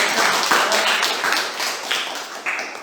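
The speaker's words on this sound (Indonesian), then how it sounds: "Tepuk tangan dulu." Children clapping their hands together during a floor gymnastics lesson in a school setting, a dense, busy patter of claps sustained throughout, fairly loud and close.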